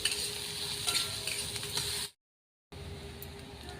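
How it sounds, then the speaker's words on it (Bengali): Onion fries in oil until golden, a soft, fairly quiet sizzle with light stirring scrapes, interrupted by a short silent gap before the frying resumes. "দিয়ে ভালো করে পেঁয়াজটাকে নরম করে আমি গোল্ডেন কালার করে ভেজে নেব"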